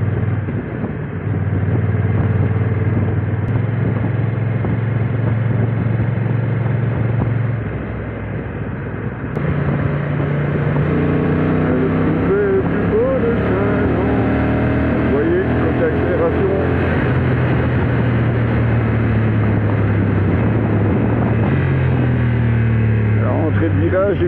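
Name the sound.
Honda NT 1100 DCT motorcycle riding on small roads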